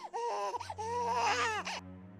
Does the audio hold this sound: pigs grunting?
no